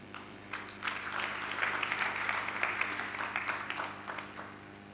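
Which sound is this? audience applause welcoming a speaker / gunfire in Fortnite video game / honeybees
audience applause welcoming a speaker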